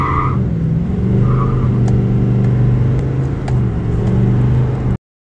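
A Duramax diesel pickup truck running a Banks Derringer tune accelerates hard on the road, its engine a loud, steady, close drone that holds throughout and cuts off abruptly at the end.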